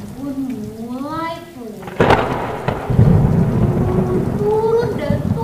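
Rain and thunder as a sound effect in a story narration, where a sudden thunderclap breaks in after a voice speaks, followed by steady heavy rain with rolling rumble and a brief voice near the end.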